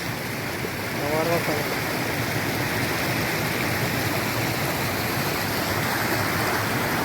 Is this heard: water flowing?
yes